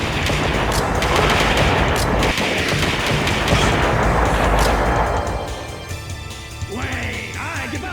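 Loud, sustained barrage of gunfire and booming rocket blasts from the boss Kong in the arcade shooter Virtua Cop, thick and relentless before easing into quieter game effects near the end.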